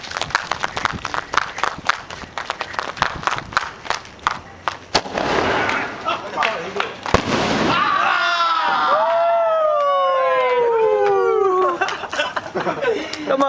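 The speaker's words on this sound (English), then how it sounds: "This is the second time playing the fireworks." Firecrackers and fireworks going off outdoors in Mumbai, a rapid string of sharp close pops and bangs, then a big burst followed by whistling, warbling rocket tones and crackling, with people shouting and talking over it.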